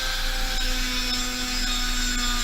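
A small high-pitched drill whines steadily and continuously, close up, drilling a bead held firmly on a drilling block, with a faint tonal hum underneath and no talking.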